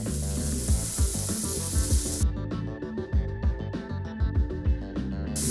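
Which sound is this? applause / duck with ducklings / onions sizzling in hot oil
onions sizzling in hot oil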